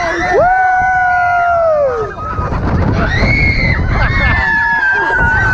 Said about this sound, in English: we got some screamers on here